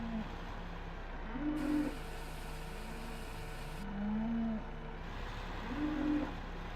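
Feeder cattle low in Farming Simulator 15, three drawn-out moos spaced a couple of seconds apart over a quiet, steady background hum.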